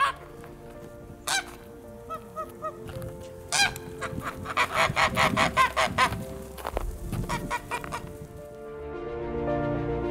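Several geese honk repeatedly in uneven bursts, fairly close, in Sarıkamış, Kars, Turkey, with overlapping calls building in the middle before trailing off.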